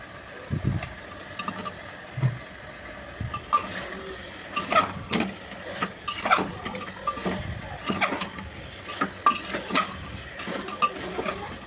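Potatoes stirred into frying mutton curry in a pan, with irregular scraping and clattering spoon strokes over a low sizzle, close by, no voices.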